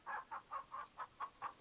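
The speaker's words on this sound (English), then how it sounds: "when closed, the hens peck their way around the coop" Hens in the chicken coop of King's Quest III Redux give a quick series of about seven evenly spaced clucks, moderately close and alone with no talk over them.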